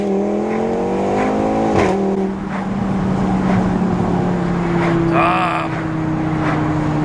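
A tuned car with a boosted engine and front-mount intercooler pulls hard under load, its rising engine note shifting sharply around a gear change, then holding a steady loud drone close by.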